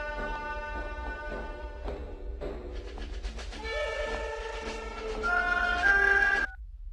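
A phone rings for the minister: a loud melodic electronic ringtone with steady sustained tones that grows brighter and busier, then cuts off abruptly near the end, with no one speaking.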